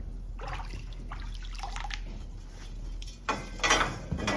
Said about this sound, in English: Now I just rinse it.